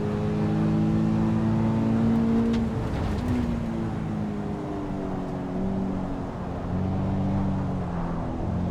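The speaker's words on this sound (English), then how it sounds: "Car's definitely not as exciting sounding as the MX-5." A race car engine in the Assetto Corsa EVO driving game hums at a steady, moderate drone with gentle shifts in pitch, continuous and unaccompanied by talk.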